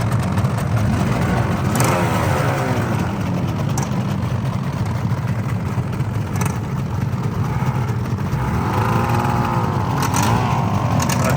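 A Yamaha RD motorcycle that needs servicing for missing rings runs at a steady, rough idle close by, with brief rises in engine pitch and no talking.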